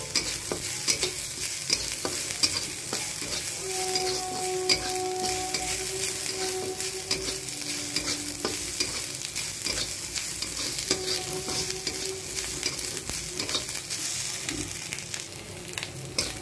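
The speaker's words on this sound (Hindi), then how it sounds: "प्याज भुजा गया है, अब हम इसमें लहसुन आधा का पेस्ट डाल देंगे।" Onions and garlic paste sizzling and frying in a pan for a chole sabji, with steady crackling and scraping stir strokes throughout, close and fairly loud, no talking.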